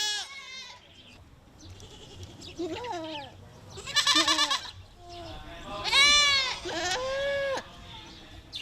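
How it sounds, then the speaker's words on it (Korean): Several goats bleat in rural Amuria, Uganda, with wavering calls from more than one animal, some near and loud and others fainter. The calls come in bursts over quiet outdoor background, and no one speaks. "염소 울음소리가 울려 퍼집니다."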